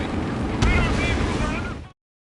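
Anti-aircraft fire and explosions in the Ace Combat 7 combat flight game: a dense, roaring wall of low rumble with one sharp blast near the start, steady and loud, ending abruptly.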